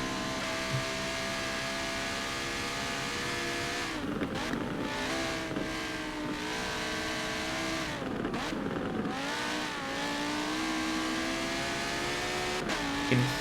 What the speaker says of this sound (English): You can hear the cars off in a distance here